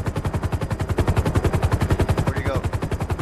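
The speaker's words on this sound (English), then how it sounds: "I hear him shooting." Rapid automatic gunfire in a video game rattles in a steady, loud, continuous burst that lasts the whole stretch and stays close, with no talk over it.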